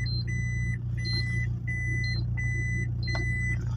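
A car engine idles under a turbo timer, a steady low rumble close by, with a repeating electronic beep pulsing over it at regular intervals.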